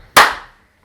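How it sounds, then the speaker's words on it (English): A single sharp hand clap, made to sync audio at the start of a podcast recording, snaps out loud and close, then trails off in a brief room echo into silence. "you need to make like a noise while you're clapping"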